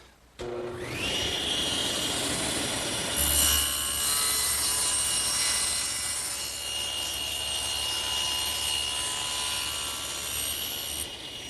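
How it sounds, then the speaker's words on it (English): A table saw with its blade tilted to 45 degrees makes a miter cut through wood for a bookcase, a loud sustained whine that deepens into a heavier roar as the blade bites, running continuously before easing at the end. "adjust the blade to 45 degrees for the miter cuts, and then we're ready to make the pass"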